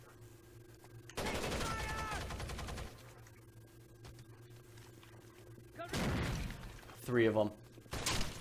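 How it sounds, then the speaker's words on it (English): A frag grenade goes off in a hallway in Rainbow Six Vegas, a loud, sustained explosive roar near the start, followed by further bangs and someone talking over the noise. "I tossed a frag down the hallway and got three kills."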